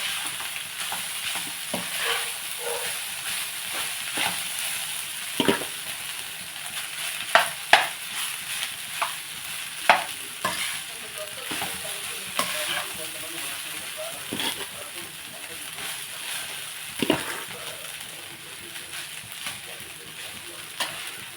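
Rice stirred and mixed in a pan on the stove, with a steady soft sizzle under repeated sharp scrapes and clinks of the spoon against the pan, close by.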